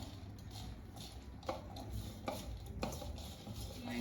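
A spoon stirs corn kernels coated with salt, ginger garlic paste and pepper in a bowl, giving soft scraping and a few sharp clinks against the side, close and quiet with no talk.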